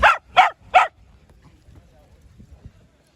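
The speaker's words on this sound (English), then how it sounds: "Those dogs fucking love it." Dogs playing soccer give three sharp, close barks in quick succession, followed by quieter scuffling and low background noise.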